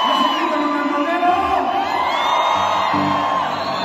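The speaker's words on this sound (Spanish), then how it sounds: "Levanta la mano, los carretoneros mexicanos, es el grito de carretonero." A concert crowd in Ecatepec lets out a sustained whooping, yelling cry, loud and continuous, with shouts and high calls rising over a dense wall of crowd noise.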